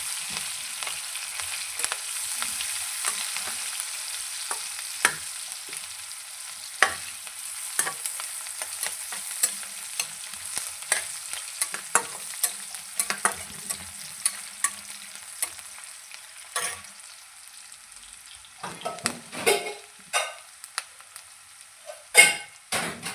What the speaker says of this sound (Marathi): कांदा, थोडा तांबूस रंगावर भाजून घ्यायचा कांदा.